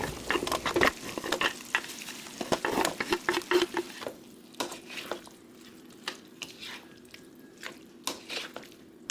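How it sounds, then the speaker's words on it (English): Tomatoes, potatoes, carrots and celery are stirred together in a pot for a Latin-style stewed chicken, giving wet squishing scrapes and soft sizzling dabs in an uneven rhythm. The sound is close and moderately quiet, with no talking. "Then I add in my tomatoes, potatoes, carrots, and celery, mixing that all together."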